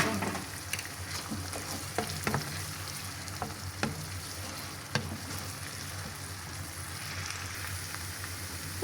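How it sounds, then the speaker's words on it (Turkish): Garlic and onion sautéing together in a pan for a meat Ankara tava dish, a steady close sizzle with occasional stirring scrapes and clicks, no voices heard. "Burada üç diş de sarımsak. O da soğanla kavrulsun."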